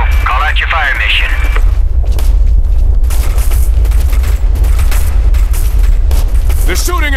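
Gunfire and explosions in Operation Flashpoint: Red River, loud continuous booms and shots filling a dense battle soundscape, with radio-like voices talking over parts of it.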